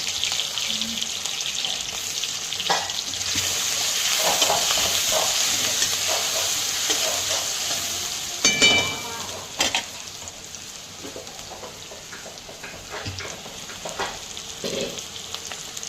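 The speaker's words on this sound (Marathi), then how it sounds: "कांद्याची चव तेलात उतरेपर्यंत थोडासा थोडा वेळ कांदा तळून घ्यायचा" Chopped onion fries in hot oil in a home kitchen, a steady close sizzle that runs throughout, with a few stirring scrapes and clinks around the middle.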